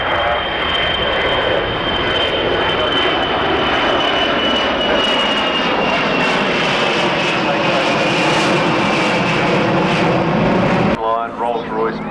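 A loud Rolls-Royce Merlin piston aircraft engine drones steadily overhead at an airshow at Matamata Airfield, with a rising whine, continuous for several seconds before cutting away, with a voice talking underneath.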